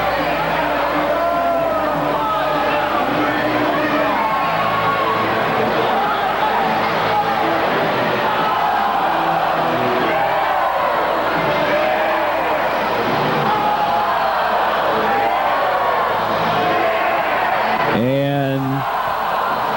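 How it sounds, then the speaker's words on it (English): Large crowd at a high school basketball game, New Trier versus Evanston, a steady loud roar of chatter and cheering throughout, with a commentator talking over it. "Some of the crowd here tonight. A large crowd."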